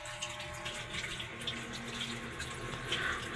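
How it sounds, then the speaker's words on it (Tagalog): Cold water poured into a drinking glass, a steady, soft splashing stream that runs quietly and continuously throughout with no talking. "Maglalagay din tayo ng 1 basong tubig na malamig."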